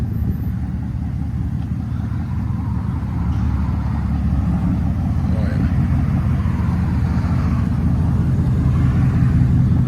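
A pickup truck fitted with new true dual exhaust rumbles with a deep, steady engine note that grows slightly louder toward the end, while a person speaks briefly over it.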